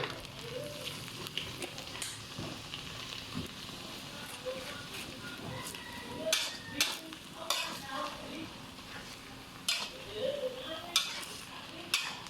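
Dry sukiyaki stir-fried in a big wok, a soft steady sizzle with repeated sharp scrapes and clanks of the utensil against the metal, faint talk under it.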